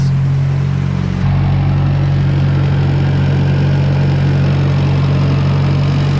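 Car engine idling as it warms up, with a loud, steady low rumble close by that shifts slightly in tone after a second or so, then holds evenly with no voices.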